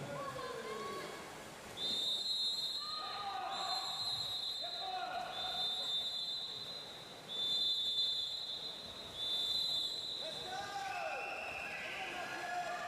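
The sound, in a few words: swimming official's whistle at a swimming championship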